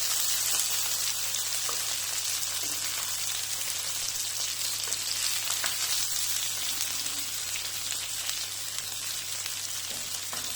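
Fish sizzles gently in a pan over low heat. The frying keeps up a steady, close crackle throughout, with a faint low hum underneath and no talking.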